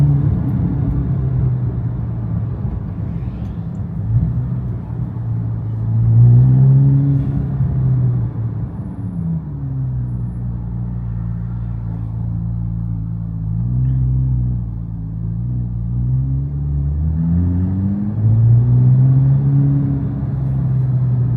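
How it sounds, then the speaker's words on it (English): Corvette Z06 auto-downshifting, a close steady rumble whose pitch steps up and down through the gears over about twenty seconds, with any small exhaust pops buried in the drone. "It's auto downshifting right now. Hopefully I can hear those little pops in the background."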